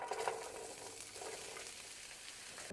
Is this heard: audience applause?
no